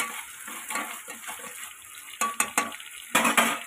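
Onions and curry leaves fry in a pot for spicy mutton kalvan, a steady sizzle punctuated by several close scraping knocks of a spoon stirring against the metal, no voices.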